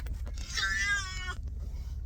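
A cat inside a truck lets out one drawn-out, complaining meow over a low rumble of engine or road noise.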